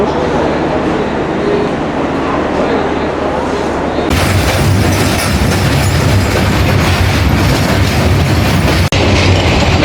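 The Madhumati Express rumbles loudly along the rails, a dense steady roar of engine and wagons that grows harsher and brighter midway, with a single sharp clack near the end.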